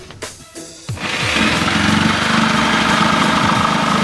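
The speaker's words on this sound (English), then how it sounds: "Oh, I need the jigsaw." A few quick handling clicks, then a jigsaw starts up and runs steadily, a loud buzzing, vibrating whine that continues without letup, while installing a switch panel on a Honda Pioneer utility vehicle.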